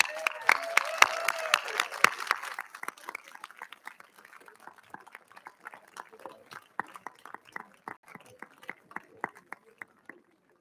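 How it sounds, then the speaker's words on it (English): Applause for Colonel Retired Peter T. Russell, West Point class of 1942, at an alumni review. A large outdoor crowd claps densely at first, then thins over several seconds into sparse, scattered individual claps. "Ladies and gentlemen, please join me in a round of applause for Colonel Retired Peter T. Russell"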